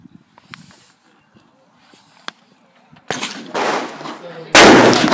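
Two loud rifle shots from a Mosin M44 and a Type 53 fire in quick succession at a range, broad and booming, each trailing off with a long ringing tail, after a few seconds of quiet outdoor shuffling and faint clicks.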